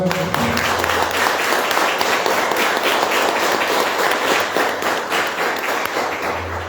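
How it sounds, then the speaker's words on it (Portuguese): Congregation applauding steadily during a Catholic penitential Mass, a dense, continuous wash of clapping that carries evenly across the whole stretch with no voice over it. "Mais uma salva de palmas."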